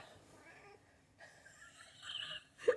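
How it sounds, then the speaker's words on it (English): A cat meows a few times, the last call sharper and louder, following a quieter stretch of faint background sound. "She just popped out from the back of the sofa and went, meow"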